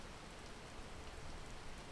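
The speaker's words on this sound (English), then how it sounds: "Is it still raining?" Steady rain falls close by, a dense, even hiss of drops pattering on a surface with no voices.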